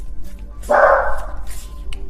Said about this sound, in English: Please ignore my dogs.